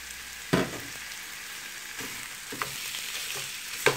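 Escalopes hit a hot frying pan already holding shallots, giving a few sharp sizzling bursts over a low steady frying hiss.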